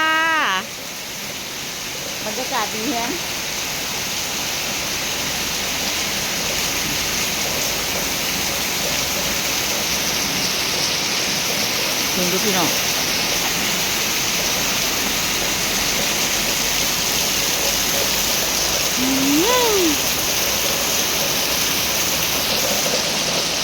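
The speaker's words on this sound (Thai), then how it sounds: "นอนฟังเสียงฝนตามเคยค่ะ" Steady rain falls in an even, unbroken hiss that holds close and loud for the whole stretch, while people talk briefly at the start and now and then over it.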